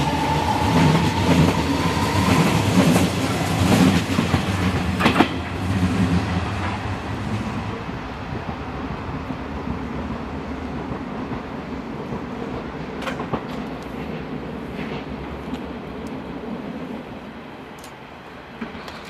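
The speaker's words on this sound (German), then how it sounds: "Der Zug, den wir von Hermannstraße bis Spindlersfeld und dann zurück bis Baumschulenweg begleiteten, verlässt nun den Bahnhof Baumschulenweg in Richtung Hermannstraße" An S-Bahn Berlin class 484 train departs Baumschulenweg station toward Hermannstraße, a loud rumble and wheel clatter that fade steadily as it pulls away, leaving faint distant rail noise.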